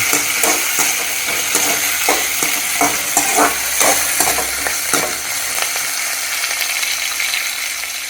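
Cumin seeds fry in hot oil in a pan on a home stove, giving a loud, close sizzle. A ladle stirs and scrapes in quick, repeated strokes, then the frying settles into a steadier crackle. No speech is heard.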